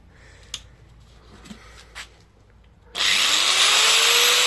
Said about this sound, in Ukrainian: З другого разу запускається болгарка